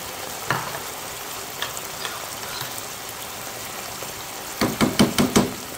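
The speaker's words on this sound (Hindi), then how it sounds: "इसको अच्छे से मिक्स करेंगे ताकि इसमें चिकन में अच्छे से टेस्ट आ जाए" Chicken being mixed by hand with yogurt and spices in a bowl, giving a few soft wet squelches early on and then a close cluster of five rhythmic slapping stirs near the end, with no talking.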